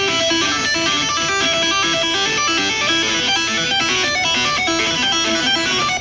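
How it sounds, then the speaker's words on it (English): Distorted electric guitar played through a Line 6 HX Stomp with a compressor, heard soloed in a finger-tapping track, a dense, steady stream of fast notes at constant loudness. "So that's the line 6 HX Stomp sound"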